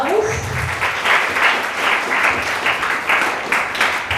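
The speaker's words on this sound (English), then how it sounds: "Let's give us an applause." A school audience applauds after an Education USA presentation, a steady wash of many hands clapping. A voice is heard briefly over the applause.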